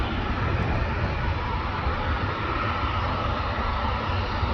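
Airliner climbing out after takeoff at Manchester Airport, a steady broad jet roar at moderate distance, continuous and even throughout.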